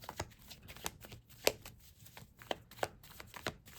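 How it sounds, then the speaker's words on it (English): Tarot cards being shuffled and pulled, a run of crisp papery riffles and snaps with sharper flicks scattered through, close and fairly quiet with no talking. "Let's pull some more cards."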